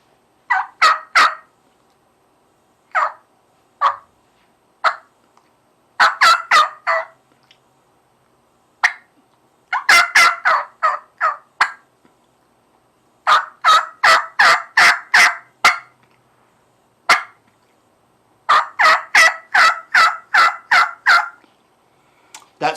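A hunter's turkey call on a logging road imitates slow gobbler yelps and jake yelps, sounding close and loud in short bursts of rasping notes with silent gaps between the series.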